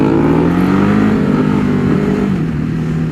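A Ducati Hypermotard 950 SP motorcycle pulls hard through second gear, its engine note climbing steadily in a loud, close, continuous rising roar for about three seconds with no talking.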